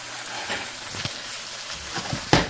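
Steady crackling sizzle of parsley, tomato and garlic frying in a pan for chimichanga filling, with a few soft clinks and a louder knock near the end, no voices.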